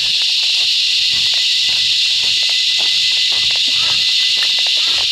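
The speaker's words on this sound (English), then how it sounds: "I think all the cicadas are up and awake this morning." Cicadas buzzing on a hot morning near a waterfall, a loud continuous high-pitched drone filling the whole stretch, with faint scattered background sounds beneath.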